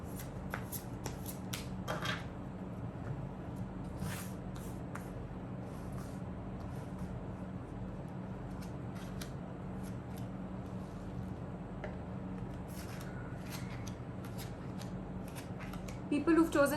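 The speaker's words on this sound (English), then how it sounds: "So while I shuffle the cards for you, please think about your situation" Tarot cards are shuffled repeatedly at close range in quick, riffling bursts, with someone talking steadily underneath throughout.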